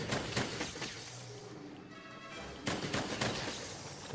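Three-round burst ammo fired in the video game Monster Hunter World, with sharp reports clustered at the start, a brief lull, then a second loud run of shots toward the end.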